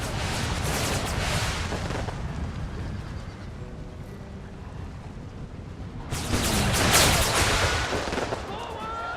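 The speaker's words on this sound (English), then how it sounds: "Here come the cannons again." Heavy cannon blasts from the video game Empire: Total War boom in bursts at the start and again near the end, with rumbling battle noise and faint voices between them.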